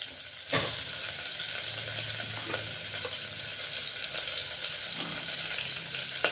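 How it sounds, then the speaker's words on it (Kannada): Green chillies with ginger fry in a pan, a steady close sizzle opening with a sharp knock, then light stirring scrapes over the hiss. "ಹಸಿಮೆಣಸಿನ್ಕಾಯಿ, ಸ್ವಲ್ಪ ಫ್ರೈ ಆಗಲಿವು."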